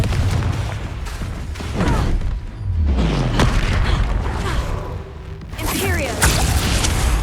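Spell blasts from Hogwarts Legacy, the Confringo fire curse, hit as loud booming bursts with whooshing tails. Several impacts follow one another over a few seconds, with a dense, crackling mix of combat effects underneath.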